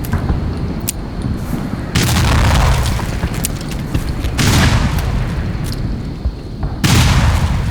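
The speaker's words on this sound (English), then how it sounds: "Probably the most obvious way, because you just got a bunch of grenades, is by throwing grenades out there." Grenades exploding in a minefield in Black Mesa, several heavy booms arriving one after another at irregular intervals, each with a long rumbling tail and scattered sharp pops between.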